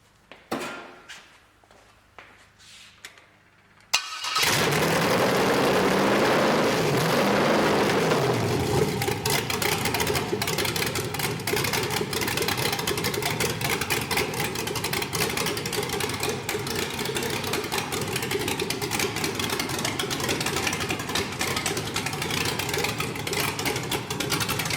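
A 5.3L LS truck engine cranks after a quiet moment and catches, then settles into a loud, steady, close idle with a mechanical hum that holds evenly throughout.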